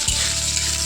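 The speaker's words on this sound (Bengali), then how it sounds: "এবার দিয়ে দেবো জিরা ফোড়নের জন্য, আর পেঁয়াজ আর কাঁচা লঙ্কা দিয়ে কিছুক্ষণ ভেজে নেব" Onion and green chilli frying with cumin seeds in hot oil, a steady close sizzle with a watery hiss running unbroken and alone throughout.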